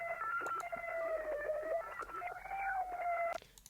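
A synth lead in FL Studio, EQ'd with the highs and lows cut, plays a warbling, slightly distorted melodic line at moderate level, then drops out abruptly near the end.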